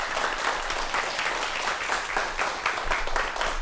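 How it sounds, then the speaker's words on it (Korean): A studio audience at a Korean science talk show claps steadily and evenly throughout, a dense, sustained wash of applause with no voices on top. "박수로 환영해 주십시오."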